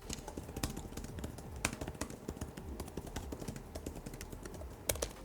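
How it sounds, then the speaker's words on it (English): Fingers type on the thin backlit keyboard of an M4 MacBook Air, a quick stream of soft close key taps with a few louder strikes, no voices. "the backlit keyboard is a pleasure to type on, accommodating my fingers perfectly with that right level of travel and response for such a thin design"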